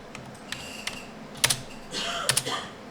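Light keystrokes on a computer keyboard as a folder name is typed, with a few scattered taps followed by a short quick burst, quiet and close in a calm room.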